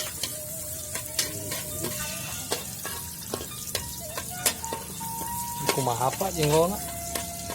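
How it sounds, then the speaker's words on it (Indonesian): Shallots and garlic sizzle steadily in hot oil as they are sautéed for a jengkol seasoning in a Sundanese home kitchen, with stirring clatter and a person talking over the frying. "biasanya numis dulu ini biasa untuk bumbunya. Bawang, merah sama bawang putih."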